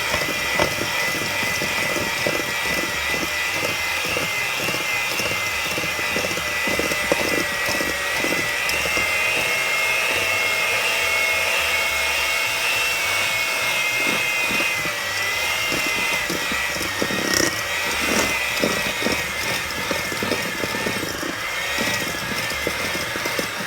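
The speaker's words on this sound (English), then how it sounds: "And then we are gonna mix this." An electric hand mixer whirs steadily through chocolate chip cookie dough, a buzzing motor tone with rhythmic thumps as the beaters work the mixture, close and continuous throughout.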